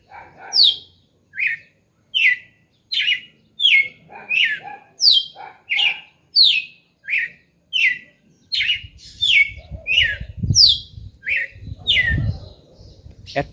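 A songbird, a red-cowled cardinal, repeats short bright phrases in a steady rhythm, loud and close, with low rumbling noise joining partway through.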